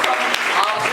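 A gathering of audience members at an RCM business seminar breaks into a brief burst of steady clapping, a dense wash of hands lasting only about a second.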